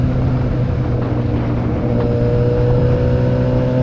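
Yamaha R6 sport motorcycle engine on a test ride, a steady close drone with layered harmonic tones and small rises in pitch, continuous and loud with no talk.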